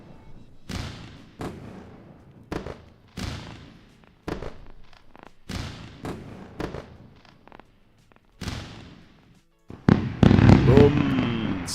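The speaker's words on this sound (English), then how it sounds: "now let's run some fireworks" Fireworks sound effect played during a live day-trading stream: a string of loud booming bursts with crackling decay, spaced about a second apart, then a dense crackling barrage near the end.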